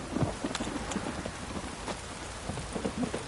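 Heavy rain hisses steadily in the video game The Witcher 3: Wild Hunt, punctuated by low rumbling thunder and irregular knocking thumps, with no talking.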